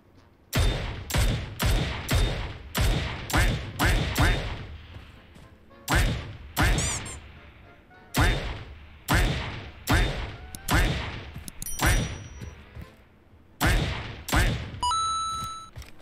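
Gunfire in the mobile game PUBG Mobile during a solo-versus-squad match: a long series of loud, sharp shots fired in quick bursts of several rounds each, with short pauses between bursts and a few electronic pings near the end.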